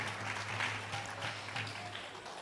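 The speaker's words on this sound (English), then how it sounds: "a round of applause for them as well" Applause from a gathered audience at a Sunday program, a steady wash of clapping at a distance that stays fairly quiet and even throughout, with no voices over it.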